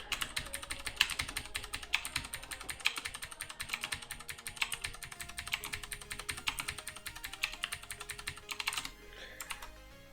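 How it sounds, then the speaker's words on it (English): Rapid, continuous clatter of keys on a computer keyboard, dense and close, with bursts of quick strokes running steadily before a brief pause near the end; no voices. "I am the fastest typer in the world."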